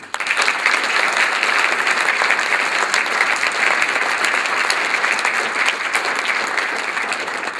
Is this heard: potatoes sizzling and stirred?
no